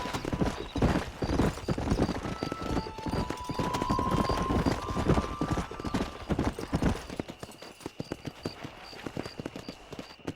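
Horse hooves clip-clopping at a steady gallop in the Red Dead Redemption game, a continuous rhythmic pounding with a neigh or whinny and faint game music, close and fairly loud throughout.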